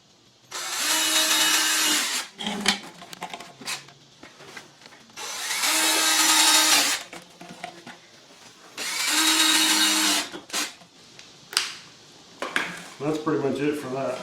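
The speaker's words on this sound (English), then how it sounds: "I'm drilling through a block of wood so I don't dull my bit on the floor." A power drill bores through a block of wood during an air conditioning install on a 1965 Impala SS, whining loudly in three sustained bursts with quiet gaps and handling clatter between them.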